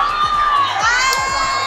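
A packed Araneta Coliseum crowd cheers at a Creamline volleyball match, a steady loud roar of shouting fans with rhythmic clapping or banging and high sustained voices throughout.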